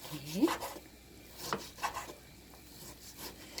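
Knife slicing through Korean hanwoo beef brisket on a cutting board for doenjang stew, a few close, soft rubbing cuts in a quiet kitchen.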